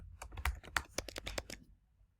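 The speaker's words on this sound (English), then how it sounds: "you'll push continue and type your password here." A password is typed on a computer keyboard, a quick run of about a dozen soft, close key taps over two seconds that trail off into quiet.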